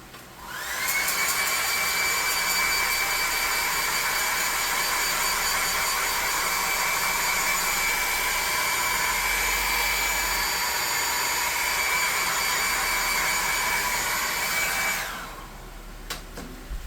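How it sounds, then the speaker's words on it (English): Blow dryer drying paint on a model sci-fi tabletop turret, a loud steady whir with a high whine that runs continuously for about fourteen seconds and then cuts off. "I'm going to hit it with the blow dry real quick."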